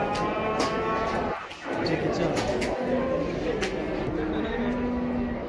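Cattle low at a livestock market, a steady low bellow under constant crowd noise and talk, with brief clatters in the middle.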